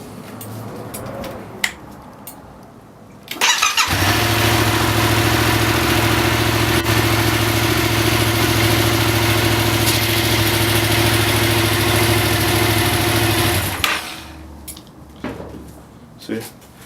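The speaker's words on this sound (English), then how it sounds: "So I'm gonna start the bike now." A Yamaha FZ-07 motorcycle engine starts and settles into a loud, steady idle for about ten seconds, then shuts off, with faint clinks and handling noises before and after.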